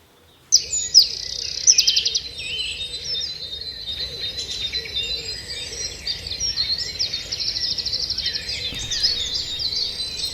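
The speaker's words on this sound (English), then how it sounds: "There's wrens singing, and there's song thrushes, or a song thrush doing its repeated patterns." Wrens and a song thrush singing at dawn in woodland, the thrush repeating its phrases, with wood pigeons cooing faintly behind; a dense, continuous chorus of bright chirps and trills, close and steady throughout with no talk.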